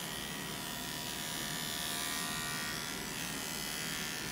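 Wahl Arco cordless hair clipper running in a continuous, fairly faint electric buzz that holds steady throughout, with no talking over it.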